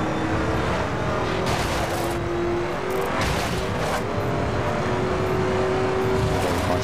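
A car in The Crew Wild Run racing video game drives at speed, its engine holding a steady drone that climbs in pitch, with a brief tire squeal and a continuous rush of road noise and no talking.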